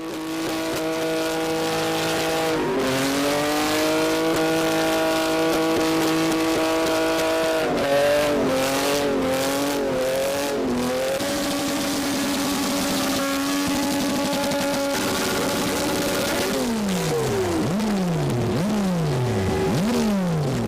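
Car engines revving hard with blast pipe effects at a street show, loud and continuous, rising and falling through repeated sharp throttle blips and sweeping revs, with occasional tire squeal layered over a dense, noisy crowd atmosphere.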